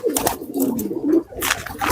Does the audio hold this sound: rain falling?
no